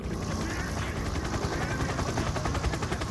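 A helicopter's steady rotor thumping fills the air, loud and continuous with a rapid chopping pulse throughout.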